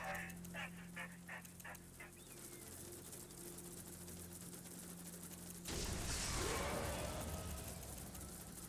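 Attack dogs in Command & Conquer Rivals give a quick run of about five sharp barks over a low game hum, followed a few seconds later by a louder burst of noisy battle sound.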